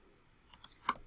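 A few quick clicks on a computer keyboard, light taps in a short burst of four or five strokes, faint and alone without speech.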